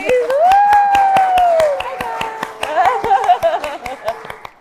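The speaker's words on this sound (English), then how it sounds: "I've never had so many applause in my life." Sharp, evenly spaced claps ring out in a fast steady rhythm for a podcast guest, close and crisp, while a voice sings and talks over them.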